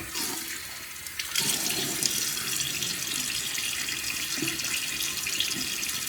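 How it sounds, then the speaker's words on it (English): Tap water runs steadily from a faucet into a sink as a man wets his face before a shave, a close, continuous splashing hiss that swells after a brief quieter start. "Let me get my face wet."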